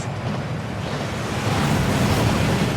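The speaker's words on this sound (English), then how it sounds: "That waterfall washes away all enchantments." Steady roaring rush of a waterfall in the video game Hogwarts Legacy, a dense continuous wash of falling water that swells slightly louder partway through, with no talk over it.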